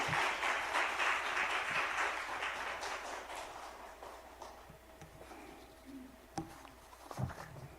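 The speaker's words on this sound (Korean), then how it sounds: "우리 귀하신 목사님을 보내주신 하나님께 영광의 박수 올려드립니다" A church congregation claps together for a visiting pastor during a Wednesday morning worship service, a dense, steady wash of applause that fades toward the end and gives way to a few scattered thumps.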